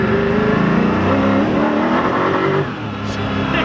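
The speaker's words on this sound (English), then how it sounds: "There is nothing like riding in a Koenigsegg." A Koenigsegg Agera RS pulls hard from inside the cabin, its engine a loud, dense rising roar that holds strong, then eases off near the end.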